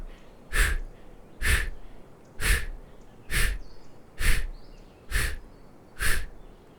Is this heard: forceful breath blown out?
yes